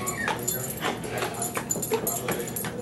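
A beagle whimpering and yipping in short, repeated bursts close by, with soft snuffling between cries.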